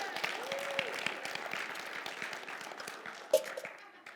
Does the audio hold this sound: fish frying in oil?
no